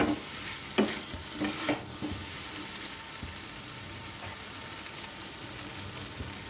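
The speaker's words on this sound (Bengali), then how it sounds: "এখন আমি সিদ্ধ করা আলুগুলো দিয়ে কষে নিচ্ছি।" Boiled potatoes sizzle steadily in hot oil in a pan, a constant soft frying hiss with a few scraping stirs of a spatula, close and alone without any talk.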